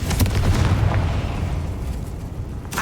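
A Confringo fire spell detonates in the Hogwarts Legacy video game, a loud booming blast with a deep rumbling tail that holds for nearly three seconds, ending in a sharp crackling burst.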